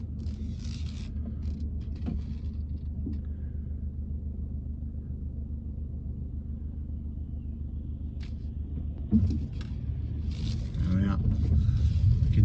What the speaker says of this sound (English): the car coming the other way, so we're going to have to wait for them to pass